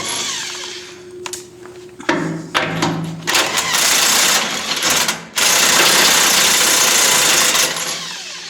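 A Dewalt 18V cordless 1/2 inch impact wrench removing rusty bolts, loud close bursts of whirring and rapid hammering that start, stop and resume over several seconds.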